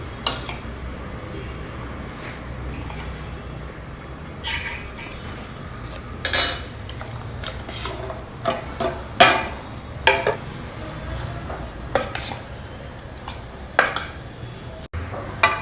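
A metal spoon mixes curry leaf rice with potato fry in a dish, making scattered clinks and scrapes against the vessel that are irregular and moderately close over a quiet background.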